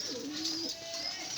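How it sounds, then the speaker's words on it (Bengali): Pigeons kept in a loft with their chicks give low, soft cooing calls, a few drawn-out coos heard close by over a steady background hiss, with no talking. "এই দেখুন আমাদের কবুতরগুলো"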